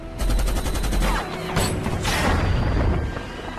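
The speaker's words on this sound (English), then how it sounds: "they are suddenly attacked by a helicopter that rains gunfire on them" Rapid bursts of automatic gunfire from a helicopter with booming impacts, loud and chaotic, rattling over a low rumbling background.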